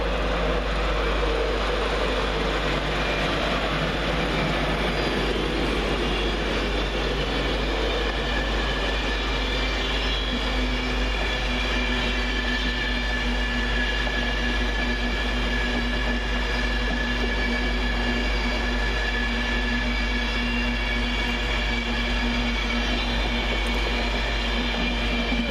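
Class 91 electric locomotive 91-111 hums and rumbles steadily through Peterborough station on a London King's Cross to Leeds service, a loud, sustained drone with wheel noise and faint tonal whines lasting the whole stretch.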